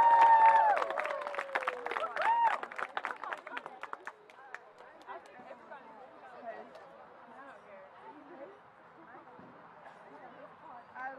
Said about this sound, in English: give a big round of applause for Knox Central High School senior